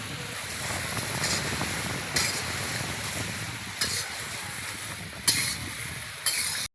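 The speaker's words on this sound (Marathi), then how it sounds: "अशा प्रकारे मिरच्या भाजून घ्यायच्या म्हणजे मस्त मसाला होतो" Chillies and spices dry-roasting in a pan with a little oil for homemade masala give a soft continuous sizzle, broken by several sharp stirring scrapes at regular intervals.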